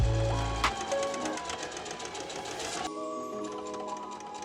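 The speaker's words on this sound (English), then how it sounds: "sewing it just like tier 1" A sewing machine stitches patchwork strips for an autumn skirt, a steady fast mechanical whir that carries on throughout at close range, with no speech.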